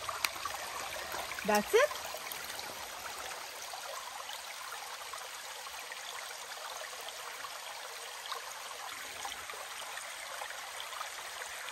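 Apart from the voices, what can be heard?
trickling spring water source on a mountain trail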